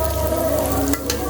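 Spices frying in a pan over a hot stove fire, a steady dense sizzle with light stirring scrapes, close and continuous, no voices.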